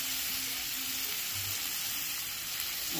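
Moong dal tipped into a hot pan with paneer and winter vegetables sizzles steadily, a continuous close hiss with faint low stirring scrapes and no voices.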